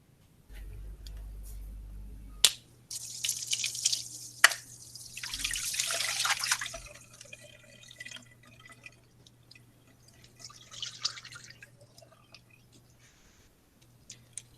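Water streams and drips from holes poked in a water container during an Ohm's law lab demonstration, with a steady low hum beneath scattered splashes, brief sharp taps and a longer rushing burst near the start.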